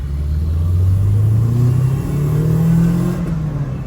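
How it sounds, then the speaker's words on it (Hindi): A car is driven out through a crowded spot, its engine rumbling loud and close with slowly rising and falling revs as it pulls away. "मैं जरा गाड़ी गुड़ी यहाँ से निकाल लूँ"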